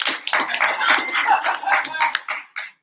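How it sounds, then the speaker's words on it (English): An audience at a poetry slam claps in a dense burst of sharp hand claps lasting a few seconds, then fading out abruptly. "y'all already clapping"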